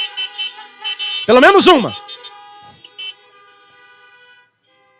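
Car horns honk at a drive-in church service: a few short beeps, then one loud, wavering blast that fades out. Someone speaks over the honking.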